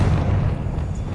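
A Confringo blast spell in a Hogwarts video game, one deep booming explosion that hits loud at once and then rumbles as it fades over about a second.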